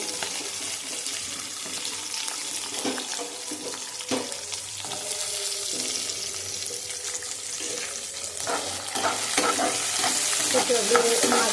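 Onions and green chillies sizzle and crackle in a hot pan while a utensil stirs and scrapes, a steady frying sound that grows a little louder near the end.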